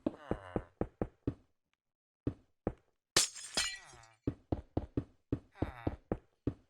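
Glass blocks being punched out in a blocky building video game, a quick series of sharp clinks and knocks with one loud shattering crash in the middle.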